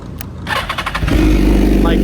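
A warm BMW motorcycle cranks briefly with a rapid starter whir, then fires and settles into a loud, close, steady idle rumble.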